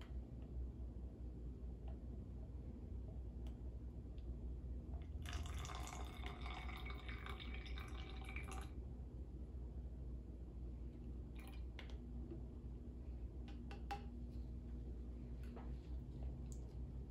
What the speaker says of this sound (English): now I'm going to pour it back into the graduated cylinder.